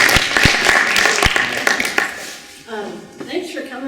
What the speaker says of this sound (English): So give them a big round of applause.